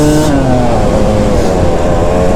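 A Yamaha YZ250 two-stroke dirt bike engine running hard, a loud, close and constant buzzing drone with a steady pitch and no pauses.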